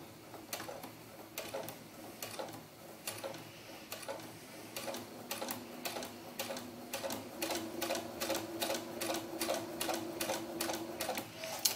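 A sewing machine stitches bias tape along a line on a doll bodice, giving a steady run of rapid mechanical clicks and taps with a low motor hum underneath, close and fairly quiet, with no talking.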